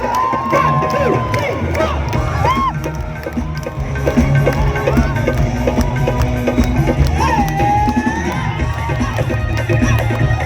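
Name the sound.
concert crowd applauding and cheering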